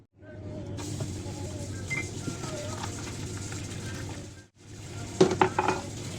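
Running water splashes steadily while dishes clink and scrape close by, briefly pausing before more clatter of plates and utensils.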